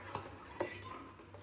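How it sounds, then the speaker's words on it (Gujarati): Metal spoon stirring freshly made coconut chutney, two light clinks against the bowl over a quiet background. "થોડું હલાવી નાખો"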